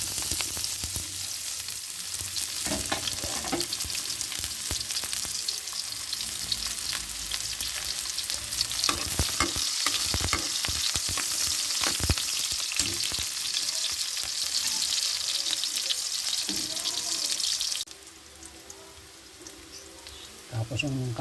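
Garlic and onion sautéing in a pan make a steady, crackling sizzle, with stirring scrapes and some soft speech, until the sizzle drops away sharply near the end.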